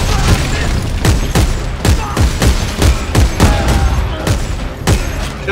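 Shotgun fire in Dead Space 3, a sci-fi horror shooter played co-op: a rapid run of about a dozen heavy, booming blasts fires at a fairly even pace over a constant loud background rumble.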